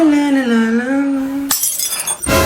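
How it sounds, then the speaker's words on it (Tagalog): Glass smashes loudly indoors, a bright burst of shattering with a second crash after a short pause; a long tonal wail or shout fills the moment before the breakage. "Unang araw pa lang dito, may nabasag ka na agad?"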